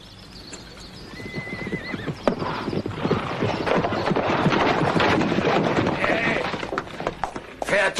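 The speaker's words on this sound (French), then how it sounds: "Fais attention avec ton maudit cheval." A horse whinnies loudly over rhythmic clip-clopping hooves in a 1965 French-dubbed bounty-hunter western, with windy outdoor noise and faint bleats in the background.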